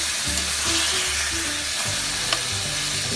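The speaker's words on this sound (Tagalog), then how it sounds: "Ito mga talsik" Squid frying in a hot pan for ginataang pusit, with oil sizzling and splattering steadily while it is stirred, a loud close crackle that never lets up.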